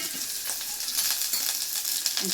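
Sliced onions frying in a little oil for an eggplant masala curry give off a steady, close sizzle with soft crackles throughout, and no voices.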